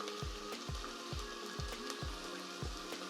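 Chopped onion sizzling in olive oil in a saucepan for tomato sauce, a steady close crackle and spatter with sharp pops recurring about every half second, no talking.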